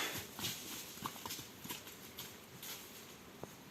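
Hooves clop steadily on hard ground at a walking pace, fairly faint, with light outdoor background noise and no talking.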